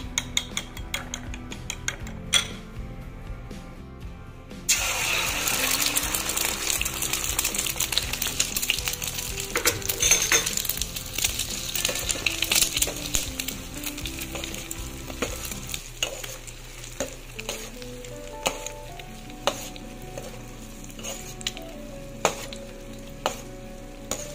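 Beaten eggs seasoned with salt and seasoning powder scramble and fry in a pan, a steady loud sizzle with stirring and scraping that later eases into quieter, intermittent crackles.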